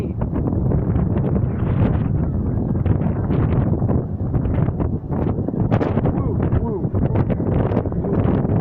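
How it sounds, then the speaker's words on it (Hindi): Strong storm wind batters the microphone in a continuous loud rumble with gusty surges throughout, with no clear speech over it. "दोस्तों बड़ी तेज हवा है यार।"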